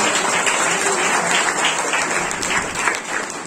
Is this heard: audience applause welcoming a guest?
yes